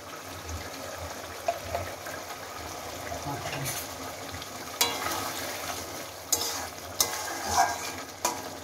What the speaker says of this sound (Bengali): এটা দিয়ে নেড়ে চেড়ে নামিয়ে নিলাম